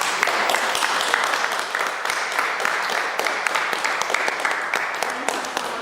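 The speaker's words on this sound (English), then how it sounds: "Let's give Dami a round of applause." At a COVID-19 speaker series event, the audience gives a round of applause, a steady burst of many hands clapping with sharper individual claps standing out, sustained at an even level throughout.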